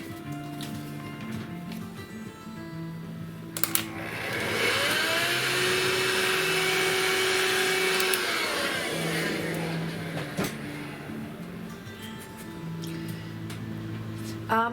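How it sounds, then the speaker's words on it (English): A vacuum cleaner hums loudly for several seconds up close, a steady whooshing drone that starts abruptly and then cuts off, with talking before and after. "I need to vacuum this, so just bear with me for a moment"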